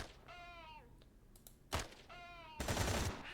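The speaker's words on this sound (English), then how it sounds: "we want to shoot with more accuracy" Gunfire in the turn-based game Quasimorph comes as two noisy bursts of shots after short tonal whining effects, moderately loud in a game soundtrack.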